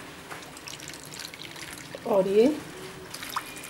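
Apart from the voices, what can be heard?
water poured into Amritsari chole while cooking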